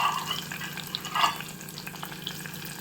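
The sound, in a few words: onions and green chillies frying in a pan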